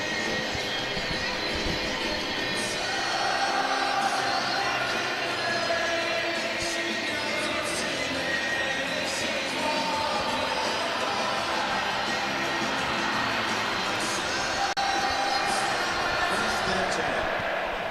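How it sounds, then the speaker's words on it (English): Broad, steady roar of a large stadium crowd at an NFL London game between the Minnesota Vikings and Cleveland Browns, a continuous wash of cheering and chatter that fills the space for the whole stretch without pause. "Let's hear the crowd."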